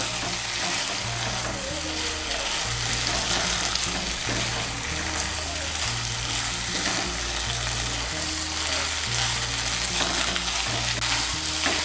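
Okra stirred with spices in a frying pan: constant close sizzling with repeated scraping and tossing of the spoon against the pan, steady and unbroken, no voices.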